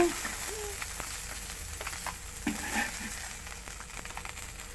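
Soft, low frying sizzle of koi fish in oil, a faint crackling hiss with scattered small pops and a few light scraping touches, close by.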